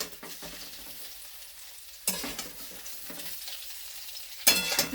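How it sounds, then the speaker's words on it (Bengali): Paneer pieces frying in hot oil in a kadai, a steady close crackling sizzle with a couple of sharper bursts of spatter as the cubes are stirred or turned. "এদিকে পনিরটা আমার হালকা ব্রাউন করে ভাজা হয়ে গেছে"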